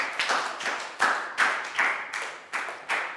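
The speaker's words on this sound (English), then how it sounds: "High five for Lakgau and a big round of applause, please, guys" Children in a school health lesson clap hands in a slow, loose rhythm, about eight distinct claps spaced roughly half a second apart, moderately near and fairly soft.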